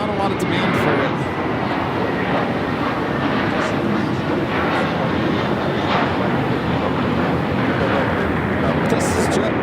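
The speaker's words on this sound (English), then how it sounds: "This is JetBlue, flight 924, taking off to JFK on the A321, first mint livery" A JetBlue Airbus A321 in its first Mint livery takes off at LAX bound for JFK, its engines producing a steady broad roar that fills the scene, with voices talking over it.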